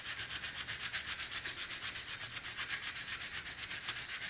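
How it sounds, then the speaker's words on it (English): Metal is lapped with wet emery by hand, a rapid, regular back-and-forth rubbing that keeps up an even rhythm, close and fairly quiet, with no talking. "I'm going to carry on doing the lapping as I've done before."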